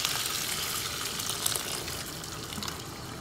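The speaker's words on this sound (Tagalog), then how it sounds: "Lalagyan natin siya ng mainit na tubig." Hot water pours into a pot of Filipino chicken macaroni soup (sopas), a continuous splashing gush that fills the moment without any talk.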